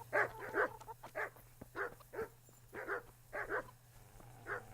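A dog in the video game Kingdom Come: Deliverance barks repeatedly in steady, evenly spaced yaps over a low constant hum, fairly close and moderately loud, with no talking.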